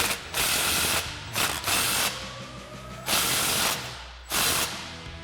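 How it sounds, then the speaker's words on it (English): Ratchet with a 15mm socket tightening an exhaust outlet clamp on an EcoBoost F-150 MBRP system, several rapid clicking bursts close up, separated by brief pauses, no speech. "Next, we'll snug down our outlet clamp, again with our 15mm socket."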